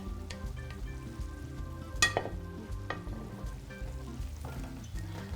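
Blanched peas and sliced cucumber stir-fried in a hot wok for sweet and sour pork, a steady loud sizzle with one sharp clatter of a utensil against the pan midway.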